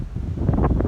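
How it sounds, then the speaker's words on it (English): Strong gusting wind blows outdoors near a house with cattle around, a steady low rumble of microphone buffeting that swells louder in the second half of the brief stretch. "Wind picked up a lot."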